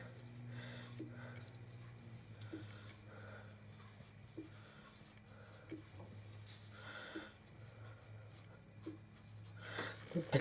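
A marker squeaks and scratches in short strokes while writing a date on a heavy Ziploc freezer bag, faint and close, over a low background hum.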